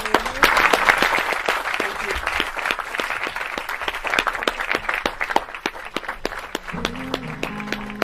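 A studio audience breaks into loud, sustained applause and claps at a live lounge show, which lasts throughout. A low musical tone enters near the end.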